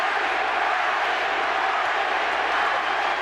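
A large boxing crowd at the Manny Pacquiao vs Joshua Clottey fight in the Dallas area roars in a steady, loud, continuous wash of cheering that fills the whole clip.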